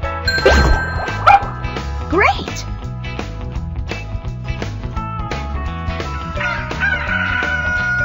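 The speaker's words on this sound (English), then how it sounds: "A chicken." A rooster crows with rising, strained calls, heard over cheerful looping music with chimes and a clucking sound.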